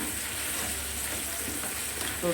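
Chopped onion, crushed garlic, half a tomato and potatoes fry in a pan with a steady, close sizzle and a faint stir near the end.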